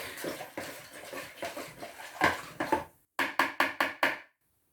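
A spoon stirs a strong vinegar and water mixture in a container, giving a run of uneven clinks and swishes that ends in five quick, evenly spaced taps against the side. No voices.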